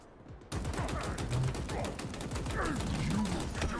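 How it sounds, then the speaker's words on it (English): Rapid gunfire from the Halo Infinite video game crackles in dense bursts, with mechanical clatter layered over a steady game soundtrack, loud and close throughout. "I'm shooting him in the back."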